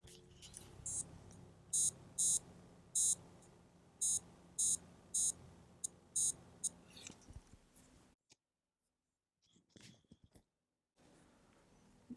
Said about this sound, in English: I can hear the buzzer working away over there in the floppy